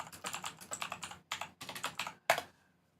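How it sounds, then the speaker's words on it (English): Rapid clacky typing on a mechanical keyboard, bursts of key presses in quick rhythmic runs with short pauses, ending in a single loud key strike, close and clear with no talking. "stay for the mechanical keyboard."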